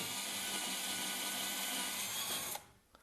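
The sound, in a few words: power drill drilling pilot holes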